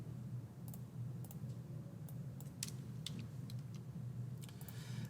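Sparse computer keyboard keystrokes in short scattered clusters, quiet and close, over a steady low room hum with no voices.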